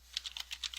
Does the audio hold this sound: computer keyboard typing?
yes